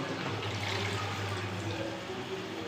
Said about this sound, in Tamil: கொஞ்சமாக தண்ணி ஊற்றிக்குவோம்